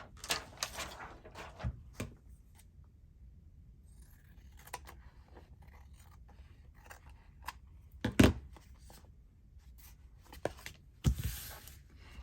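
Scissors trimming paper ephemera in a craft session: a few sharp, close snips and crisp paper rustles scattered among quiet handling noises, with one loud cut near the end.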